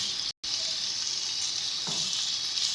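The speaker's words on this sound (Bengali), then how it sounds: "এবার এটাকে একটু হালকাভাবে ফ্রাই করে নেব" Turmeric-coated paneer frying lightly in a pan with powdered spices, a steady close sizzle with a brief gap near the start and a soft stir or clink toward the end.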